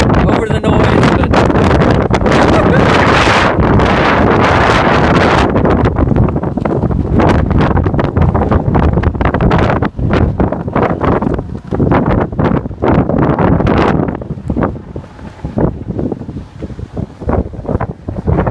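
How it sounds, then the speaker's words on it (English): Strong wind buffets the microphone in hard, roaring gusts during a tropical storm's rain bands, loud and continuous for most of the stretch before easing into choppier bursts, with a voice faintly talking underneath. "town's a little windy. I don't think you can hear over the noise"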